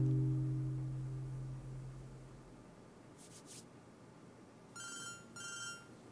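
A telephone rings in an indoor television drama scene, with two short bursts of ringing near the end after a low humming tone fades at the start.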